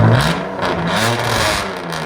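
A 2002 BMW Z3's 3.0L inline-six barks through true dual straight-pipe exhaust, revving loud and close before dropping into a raspy, wavering idle.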